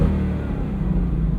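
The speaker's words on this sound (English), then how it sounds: "And then here's quiet exhaust." A Ford car's exhaust in quiet mode at a racetrack gives a steady, low rumbling drone with a slight swell, heard close and continuous with no talking.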